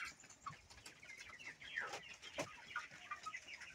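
Local chickens cluck softly at a distance, scattered short calls over a quiet background.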